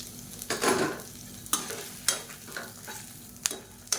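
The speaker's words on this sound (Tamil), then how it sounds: "இப்போ மீடியமான ஃப்ளேமில் எல்லாத்தையும் நல்லா வறுத்துக்கலாம்." Onion and other chutney ingredients fry on medium flame in a pan, giving a soft continuous sizzle broken by several sharp scrapes and clatters as the mix is stirred, close up with no talk.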